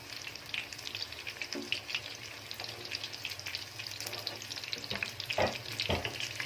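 Chicken noodle kababs fry gently over a low flame, a soft, quiet sizzle with scattered light crackles and a few pan clinks.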